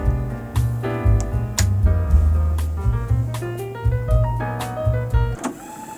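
An Akai GX-F31 cassette deck's IPLS tape positioning mechanism runs with motorized whirring, tape winding and shifting mechanical tones, punctuated by sharp clicks and clunks from the transport, close up and with no voices.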